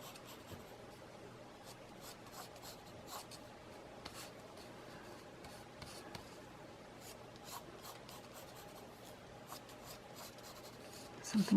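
A pencil scratches and rubs steadily across paper while a design is sketched, close and quiet, with continuous strokes and light taps and no talking.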